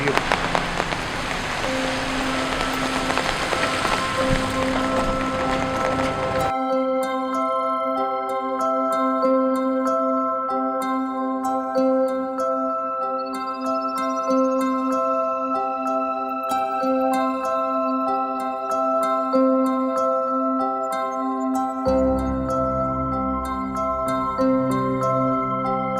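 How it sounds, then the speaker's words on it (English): Rain falls outdoors in Costa Rica as a steady broadband hiss at the start and again near the end, while tonal music dominates the long middle stretch. "It's raining and it's a very pleasant weather as of now."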